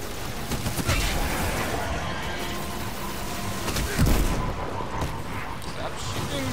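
Continuous heavy gunfire and blasts roar through a Destiny 2 Forsaken firefight, dense and loud throughout with one sharper boom in the middle, while players talk over it.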